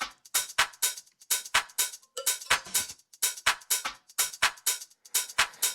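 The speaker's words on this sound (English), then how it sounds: "As you can see, I have a hi-hat loop. It's simple, but it's very effective." A simple hi-hat drum loop in Logic Pro plays on its own, a crisp and evenly spaced run of bright metallic ticks with a tight repeating groove and no voices.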